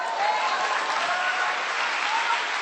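A church congregation applauds steadily and loudly throughout, a dense, continuous wash of clapping with no pauses.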